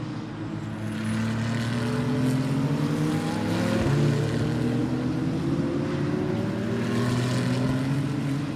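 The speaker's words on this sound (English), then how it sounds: "Definitely got a different sounding engine." A Ferrari engine running at Queensland Raceway, a loud, steady drone whose pitch climbs gradually with a brief dip partway through, with no one speaking.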